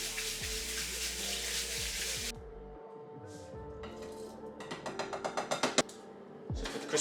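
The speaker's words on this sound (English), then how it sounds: "So rinse that underneath some cold water." Cold tap water running steadily into a bowl of rice being rinsed, a loud rushing stream that cuts off, followed by clinks and rattles of the pot and grains being handled.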